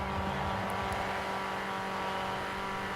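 A 2016 Vauxhall Corsa engine in Forza Horizon 4 drones steadily at sustained revs, loud and continuous without pause or talk.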